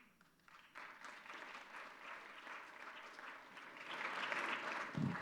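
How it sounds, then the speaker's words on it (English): Audience applause at a distinguished lecture in African Studies, a steady wash of many hands clapping that swells louder toward the end, heard fairly distant in a hall. "I like the way they applaud,"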